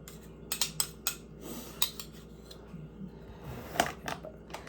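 Pork dinakdakan being stirred and mixed in a bowl, with light clinks and scrapes of a utensil against the dish coming in irregular bursts, quiet and close, over a low background hum.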